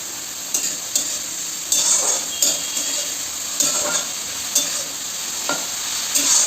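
Potatoes sizzling in a pan under a constant hiss, broken by repeated stirring scrapes and clacks every second or so.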